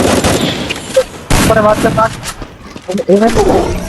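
Video-game gunfire from enemies, with bursts of shots and booms scattered through the clip under near-constant excited talk from players.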